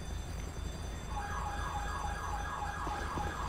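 Ambulance siren in Grand Theft Auto 5, a faint wailing tone rising in partway through and cycling steadily behind a low engine rumble, with no talk.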